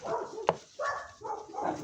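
A dog barks from somewhere up high in a home, with three or four short yaps and whimpery barks spaced apart, fairly faint and without talk over them.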